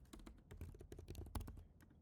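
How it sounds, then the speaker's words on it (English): Fingers type on a computer keyboard in a quick, uneven run of close, faint key clicks. "Oh, if I could type."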